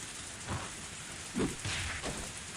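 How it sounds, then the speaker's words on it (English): Steady rain falls on surfaces in a continuous hiss, with low rumbles of distant thunder rolling underneath and no voices. "Only the sound of rain filled this tense moment."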